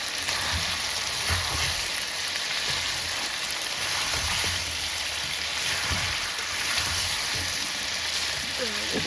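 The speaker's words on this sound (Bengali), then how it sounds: "আর এখানে আমি মাংসটা ভাজতেছি।" Meat frying in a pan, a steady dense sizzle running throughout without a break, close and loud, with faint background noise.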